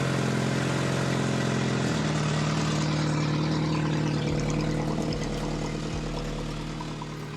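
Turbocharged Honda CRX engine running on open exhaust, a loud steady close-up drone with a deep low rumble that shifts pitch partway through as the idle settles.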